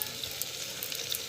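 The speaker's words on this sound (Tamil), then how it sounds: "நல்லா வந்து வதக்கிட்டுருக்கோங்க." Spices, asafoetida and rock salt sautéing in a hot pan, a continuous close crackling sizzle for a moment with no voices.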